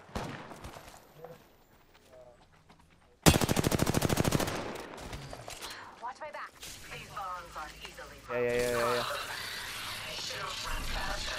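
Apex Legends gunfire: a sharp burst of rapid automatic shots, then further bursts and rattling fire later on, with a voice talking in between.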